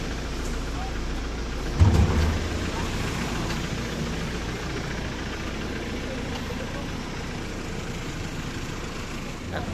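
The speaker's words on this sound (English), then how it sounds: "The 4CB engine." A Hyundai Porter 2 freezer van with a 4CB diesel engine idles nearby, a steady low rumble throughout, with one brief louder thump near the start.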